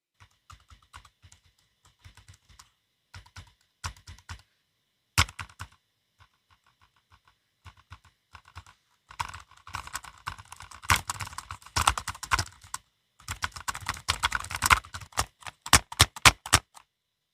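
Keys clatter on a Dell laptop keyboard, first in sparse taps and short bursts, then in faster, denser runs of typing, close and fairly quiet.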